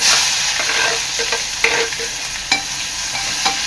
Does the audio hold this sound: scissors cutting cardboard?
no